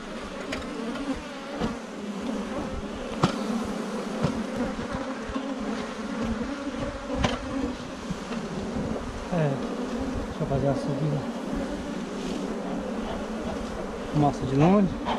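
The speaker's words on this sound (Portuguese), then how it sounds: "Tem abelha, só." A large, agitated swarm of pollen-laden bees near farmland drones continuously, a dense close buzzing that holds steady throughout with occasional louder passes near the microphone.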